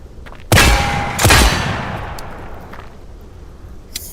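A Benelli M4 12-gauge shotgun fires buckshot, two loud, sharp blasts about a second apart, each followed by a long fading echo, with no talking.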